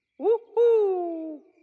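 A cartoon owl's hoot voiced in a Peppa Pig episode, a short rising note then a longer, sustained falling hoot, clear and close, imitated by a human voice.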